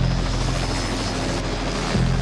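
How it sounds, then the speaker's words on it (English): A Norwegian helicopter flies low over the frozen Antarctic terrain in the 1982 film The Thing, its rotor and engine a dense, steady roar that fills the whole stretch without a break. "A Norwegian helicopter zips across the terrain firing at a dog that's running away from them."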